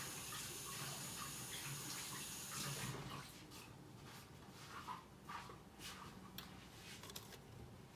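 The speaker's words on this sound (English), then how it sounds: "Wash my hands again." A kitchen tap runs steadily, then hands are washed under it with softer splashing and uneven dribbles. The sound stays quiet and close, with no voices.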